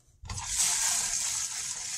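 Water from an RV gray water tank rushes out steadily after a short pause, a constant hissing drain flow heard up close with no voices.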